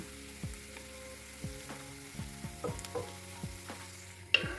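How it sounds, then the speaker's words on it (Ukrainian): Onion and carrot for green borscht fry in a pan. A steady low sizzle runs under a series of sharp stirring scrapes and clinks, with one louder clatter near the end, and no talking. "Тут не забуваємо помішувати, щоб наша цибулька була гарна, світла з моркою, щоб вона не була пригорівша."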